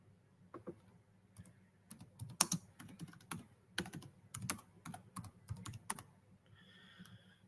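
A computer keyboard is typed on in quick, irregular bursts of close, crisp key clicks in a quiet room, with no one talking.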